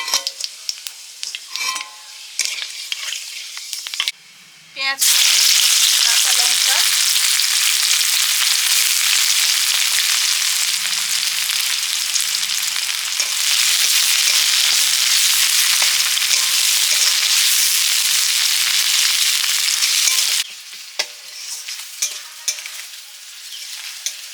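Spices crackle and sizzle loudly in hot mustard oil for a fish and banana-potato curry, with stirring scrapes at the start and end; the steady frying hiss fills most of the stretch.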